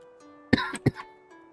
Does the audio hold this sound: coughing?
yes